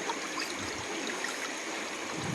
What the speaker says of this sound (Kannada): ಈಗ ನೀರು ಎಲ್ಲೊಂದಿಲ್ಲದೆ ಸೀದಾ ಬಸಿದು ಹೋಗ್ತಾಯಿದೆ